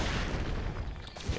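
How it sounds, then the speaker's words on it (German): Explosive barrels in the video game Trine 2 go off in a dense, rumbling blast that fills the whole moment, loud and close with a heavy low-end roar. "Explodiert alles."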